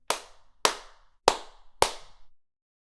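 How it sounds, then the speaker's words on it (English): Four sharp hand claps made close to the microphone, evenly spaced about half a second apart, each loud and crisp with a short decay into silence. "I promise my hands were like 4 inches away from the mic on that clap"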